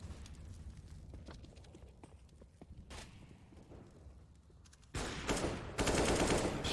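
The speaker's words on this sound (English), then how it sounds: "Shots continue to be exchanged" Gunfire traded in a Counter-Strike match on Inferno: scattered distant shots and taps, then loud bursts of rapid automatic fire near the end, with no talk.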